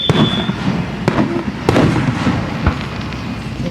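Fireworks bursting overhead outdoors, several sharp booms and crackles over a steady roar of distant explosions. A faint whistle rises at the start.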